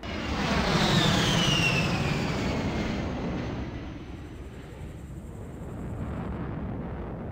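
Explosion in the Halo MCC sandbox video game: a loud, deep roaring blast that swells at once and then rumbles on steadily, fading only slightly over several seconds, with no talk.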